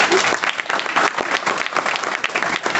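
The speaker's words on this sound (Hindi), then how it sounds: "तो एक बार यार ताली बजा दो यार।" Audience applause from a college crowd at a placement talk session, dense continuous clapping that stays loud and even throughout.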